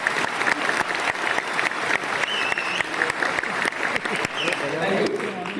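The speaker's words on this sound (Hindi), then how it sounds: "ताली बजाना है तो प्रॉपरली सब लोग ताली बजाओ" An audience at a product launch event claps steadily in a dense, continuous round of applause, with a voice speaking over it.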